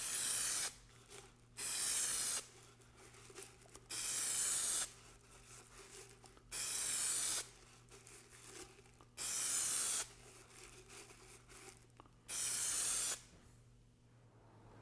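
Spray adhesive hisses onto the airframe tube of an Estes Little Joe II model rocket in six evenly spaced bursts of roughly a second each, separated by quiet pauses with faint handling noise.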